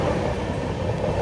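The Coromandel Express picks up speed on the rails, a steady loud rumble and rattle of wheels and carriages heard from on board, continuous and unbroken, with no voices.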